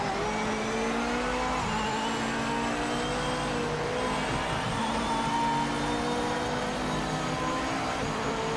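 A GT3 race car engine in the sim racing game Project Motor Racing, droning steadily at high revs with shifting pitch and brief throttle changes, loud and continuous with no talking.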